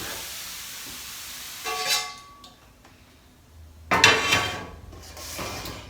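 Hot char-grilled broccoli being stirred through a lemon juice and caper mixture in a pan: two clattering, scraping bursts of utensil against cookware separated by quieter stretches, close and fairly loud. No one speaks.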